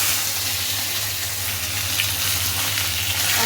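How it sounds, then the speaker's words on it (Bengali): Whole cumin, bay leaves, dried red chillies, fennel and fenugreek seeds temper in hot oil, producing a loud, continuous crackling sizzle with a low steady hum beneath. "ফোড়ন দিয়ে দিয়েছি গোটা জিরে, তেজপাতা, শুকনো লঙ্কা, মৌরি আর মেথি"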